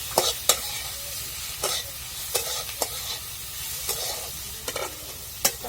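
Ambadi leaves with masala and onion are stirred and sautéed in a pan: a steady soft sizzle runs under repeated scraping stirs at irregular intervals, with no talking.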